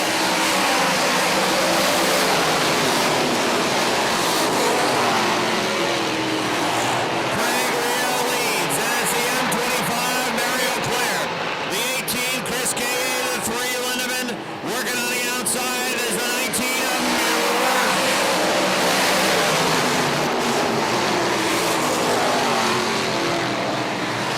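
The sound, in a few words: race cars racing wheel to wheel on track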